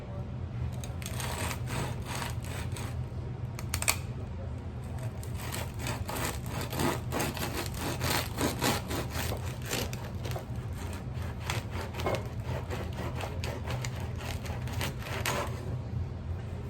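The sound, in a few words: knife sawing through a crusty loaf of no-knead bread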